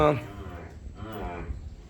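A pregnant water buffalo, six months in calf, lows on a farm with a drawn-out moo that opens loud and then eases. The call is close and fills the clip.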